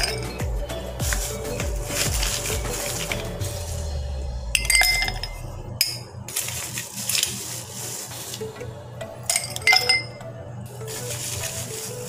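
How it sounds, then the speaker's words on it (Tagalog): Ice cubes drop into a glass for homemade milk tea, a sequence of sharp clinks and rattles with crunchy scraping between them, loud and close with no talking. "Lalagay na ako ng ice sa baso."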